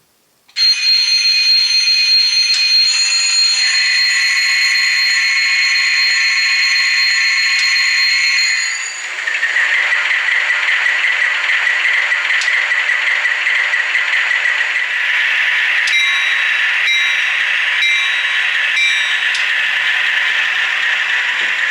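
A model locomotive's electronic engine sound, from a Christmas AC4400 model: a steady droning hum with tonal horn-like notes and a busy mechanical rattle, loud and close.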